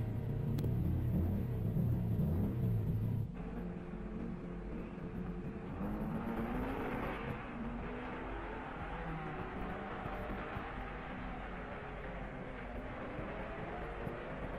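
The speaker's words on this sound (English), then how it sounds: "now the supercharged MG passing number 10 to move into fifth place" A supercharged MG race car roars past on a straightaway, a loud, steady engine rumble that sweeps by early and then settles into a lower, continuing drone with no talk over it.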